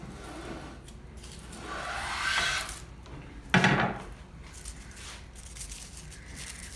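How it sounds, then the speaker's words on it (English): Number 8 hand plane, freshly sharpened on an extra-extra fine diamond stone, pulling a thin shaving from a wood surface; a soft rising swish is followed by a sharper, louder scraping stroke, heard up close and alone. "Let me try and pull a shaving."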